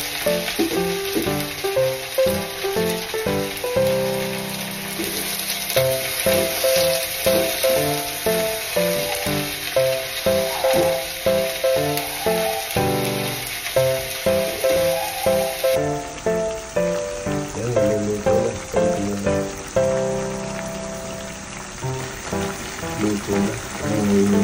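Chayote shoots (talbos ng sayote) cooking in a pan, a steady loud sizzle and crackle with stirring scrapes running throughout, no voices.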